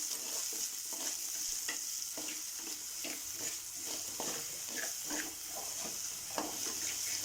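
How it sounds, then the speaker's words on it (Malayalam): Garlic, ginger and green chilies with a little salt sautéed in a pan: a faint, steady sizzle broken by regular scraping stirs close by, with no speech. "ഇഞ്ചി, പച്ചമുളക് ഇതെല്ലാം കൂടി ഇത്തിരി ഉപ്പിട്ട് വഴറ്റുക."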